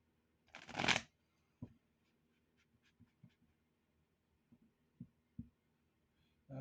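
A burst of tarot cards riffling together, followed by quiet scattered taps and soft shuffling sounds of cards being handled, close and gentle.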